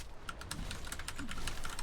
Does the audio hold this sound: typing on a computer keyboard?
yes